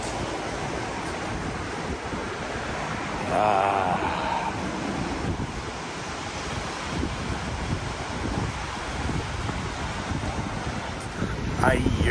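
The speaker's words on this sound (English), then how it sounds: "those waves crashing just kind of soothed the soul" Ocean waves wash and crash along the shore in a steady, broadband roar, with wind buffeting the microphone throughout and a brief swell in loudness partway through.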